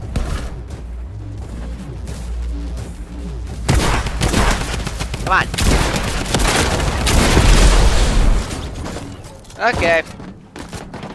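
Gunfire from an AR rifle with a thermal scope in a shooter video game, loud bursts of shots and booming impacts over steady game background, with someone talking briefly.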